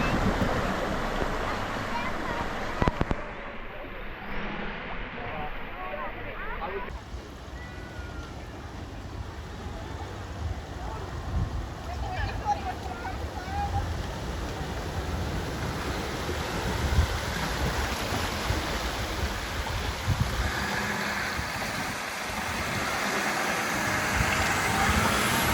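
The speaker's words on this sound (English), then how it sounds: "I did video a vehicle crossing with no troubles at all" A vehicle fording the creek at Nolans Brook on Cape York, Australia: a steady rumble of engine and rushing, splashing water that stays loud and fairly close throughout, with voices talking underneath.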